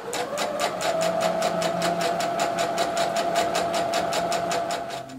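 A sewing machine stitches a skirt slit seam with a fast, even rhythmic chatter of needle strokes, running continuously and close up with no talk.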